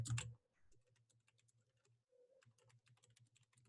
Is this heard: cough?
no